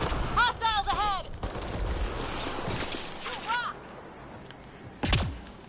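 Gunfire at creepers in Mass Effect Andromeda, bursts of sharp shots scattered across the clip, with a final loud blast near the end, mixed with chirping creature cries and game effects.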